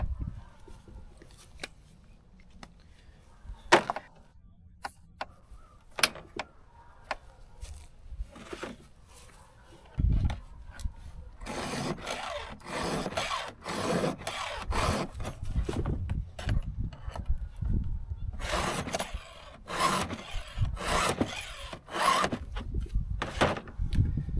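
Repeated rasping strokes of a sharpener file against chainsaw chain teeth, coming in irregular bursts up close, with scraping and rubbing sounds between passes.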